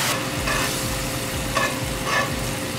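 Marsala wine, about a cup, sizzles in a frying pan while making chicken Marsala, a steady close fry with stirring scrapes and brief louder bursts.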